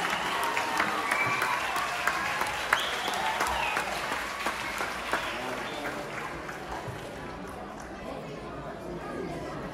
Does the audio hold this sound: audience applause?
yes